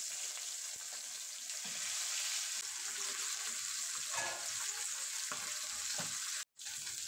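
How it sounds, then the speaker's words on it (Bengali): Bata fish fry in hot mustard oil in a frying pan, giving a steady, close hiss of sizzling with a few faint stirring knocks and a brief break near the end. "তেল গরম হয়ে গেলে এক এক করে বাটা মাছগুলো দিয়ে দেব"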